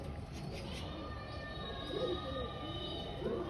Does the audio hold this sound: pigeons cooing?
yes